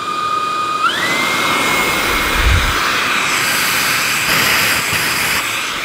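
A Dreame T30 cordless vacuum cleaner with 27 kPa suction and a carbon fibre tube runs loud and steady, a rushing airflow roar with a high whine that steps up in pitch near the start.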